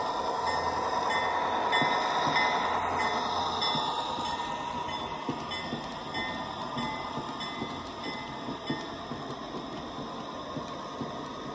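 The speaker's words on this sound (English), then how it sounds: "You know, I can't have a video without running a few trains." Large-scale model railway trains running, giving a continuous close mechanical rumble with a steady whining hum and light clicking of wheels on track throughout.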